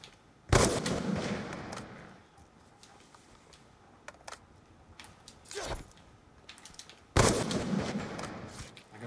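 Bursts of gunfire in Black Ops 2 on the Serenity map: two loud, sharp volleys about six seconds apart, with a few fainter shots and clicks scattered between them over a low background.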